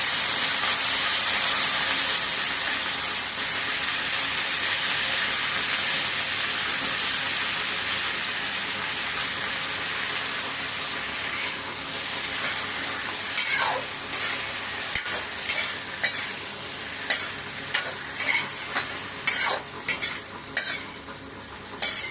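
Brinjal (eggplant) goes into a hot pan with browned lentils and is stir-fried. A steady hiss of frying comes first, then a run of distinct, rhythmic spatula scrapes and clacks as the pieces are tossed close up.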